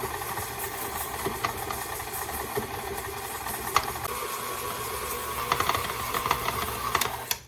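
An electric mixer drones steadily while creaming butter and sugar for chocolate chip cookie dough, a continuous motor whir with small clicks and knocks from the beaters.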